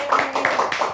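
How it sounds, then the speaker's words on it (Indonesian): A brief burst of hand clapping at a poetry book event, several quick claps in a loose rhythm, close and fairly loud, from a small group. "Sepi banget, tepuk tangan dong."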